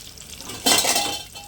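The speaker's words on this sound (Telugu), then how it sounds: "ఇది ఒక్క ఇంకొక టూ మినిట్స్ వేగాలి" Purnalu sweets deep-frying in hot oil, a soft continuous sizzle that swells suddenly as a utensil stirs and scrapes in the pan, close and with no talking.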